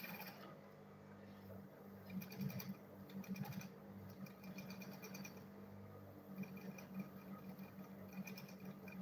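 A sewing machine stitching a homemade lunch bag, a faint rapid mechanical whir that runs in bursts with short pauses between.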